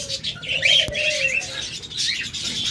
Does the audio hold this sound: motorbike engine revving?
no